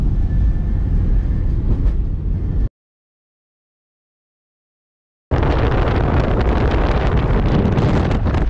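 A train from an airport runs through a very long tunnel with a constant, loud rumble and roar. The sound cuts to total silence for a few seconds midway, then the same steady rumble resumes.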